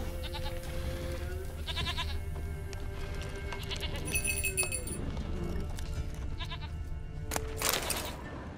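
A goat bleats in The Witcher 3 game, several short bleats at moderate distance over a steady ambient game soundscape with faint hoof clip-clop.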